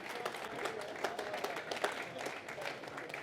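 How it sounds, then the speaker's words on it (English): Audience applause at a sales conference, a steady wash of many hands clapping throughout, moderately loud and crowded, with no voices rising above it. "give Goose a round of applause"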